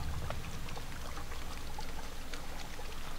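Fuel pours steadily into a generator valve in a horror video game, a continuous close liquid rush with faint sloshing, no voices over it.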